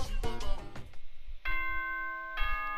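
A ding-dong chime from the Danganronpa video game plays a sustained, ringing electronic tone for the school announcement, heard alone after a brief burst of music.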